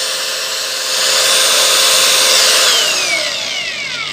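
An INGCO CAGLI21104 cordless brushless angle grinder spins freely at speed setting 3, a loud, close, high-pitched steady whine whose pitch slides gradually as the motor settles, with no voices.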